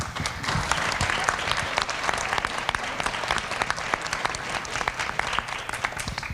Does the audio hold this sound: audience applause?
yes